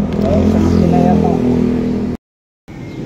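A car engine that won't start properly, with an engine oil problem, runs loud and rough with revving for about two seconds, cuts out abruptly, then rumbles back in.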